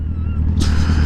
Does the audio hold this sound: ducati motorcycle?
yes